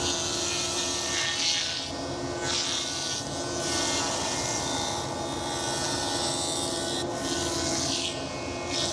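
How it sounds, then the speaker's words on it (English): A bandsaw slices dead tree wood into thin drying stickers, giving a steady, loud, unbroken whining rasp with a constant motor hum beneath it and a few brief swells in the cutting noise. "to the bandsaw and just start slicing them all up into slices"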